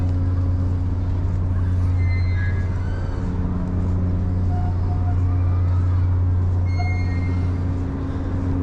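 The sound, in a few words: boat engines running loudly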